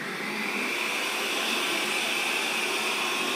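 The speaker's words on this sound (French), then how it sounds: "Et il va augmenter sa puissance d'aspiration." Narwal Flow robot vacuum cleaner running steadily at close range, a continuous broadband suction whine with its pitch and loudness holding even throughout, no voices.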